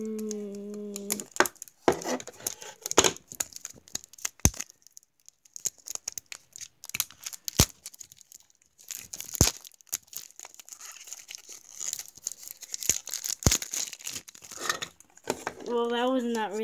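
A plastic toy package being cut open with scissors, with close crinkling and crackling of packaging and sharp snips scattered throughout, while a person talks at the start and end.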